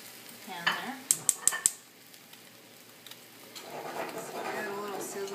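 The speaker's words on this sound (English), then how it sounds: "Get a little sizzle on that." A few sharp metallic clinks of a utensil on a frying pan, then a soft, steady sizzle of an omelette frying.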